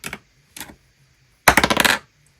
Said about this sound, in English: I'm going to roll to see how many times I will be rolling